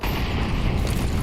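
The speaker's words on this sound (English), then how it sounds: "nades to soften" Grenade explosions in a Counter-Strike match at a professional esports event, a loud continuous rumbling boom that fills the whole moment with deep, dense low-end noise.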